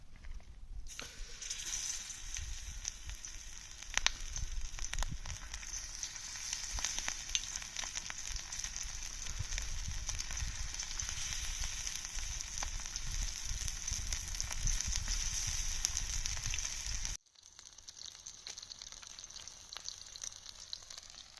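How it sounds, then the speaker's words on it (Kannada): Anjal fish frying on a tawa in hot oil, a close and steady sizzle that carries on evenly for a long stretch, then drops off abruptly and comes back quieter. "ಎಣ್ಣೆ ಎಲ್ಲ ಕಾದಿದೆ ಈಗ ಅದಕ್ಕೆ ಮೀನನ್ನು ಒಂದೊಂದು ಬಿಡುವ"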